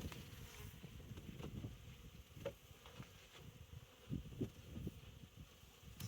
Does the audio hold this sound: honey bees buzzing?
yes